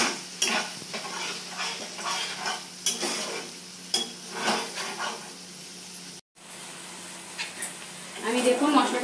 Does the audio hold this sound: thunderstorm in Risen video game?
no